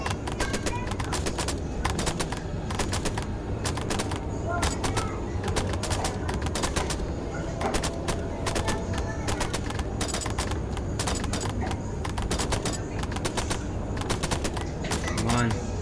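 Rapid bursts of gunfire in the Spider Monster horror video game, loud dense volleys of shots repeating almost continuously, with someone talking faintly underneath.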